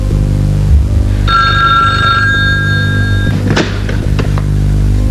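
A telephone bell in an old PTV drama scene rings out with one loud, sustained metallic trill for about two seconds, followed by a couple of close clunks as the receiver is handled.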